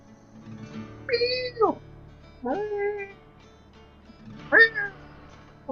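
A human voice imitates a cat, giving three drawn-out, wavering meow-like moans. Each one rises and then falls, and they are separated by short pauses.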